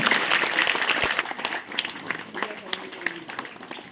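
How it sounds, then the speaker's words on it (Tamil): Audience applause welcoming guests and students at a school Anti-Child Labour Day pledge ceremony; a dense wash of clapping that starts strong and thins into scattered claps, with voices underneath. "பலத்த கரகோஷத்துடன் வரவேற்குமாறு கேட்டுக்கொண்டு"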